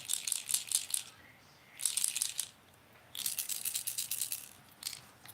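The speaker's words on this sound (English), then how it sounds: "Hear that rattle? It's like there's a 1 BB in there." A cheap AliExpress fishing lure shaken by hand, a single loose BB rattling inside in three bursts of quick, dry clicking with short pauses between, fairly quiet and close.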